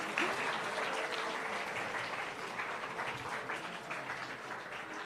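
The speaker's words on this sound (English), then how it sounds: "Can we have once more a huge round of applause for all the winners?" An audience at an inter-school general knowledge quiz contest gives the winners a sustained round of applause, a dense, even wash of clapping from a sizable crowd that holds steady for several seconds.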